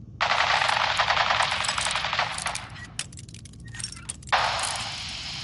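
Loud, continuous automatic gunfire in the Fallout 4 video game rattles in sustained bursts, breaks off briefly into scattered metallic clinks and cracks, then resumes at full intensity.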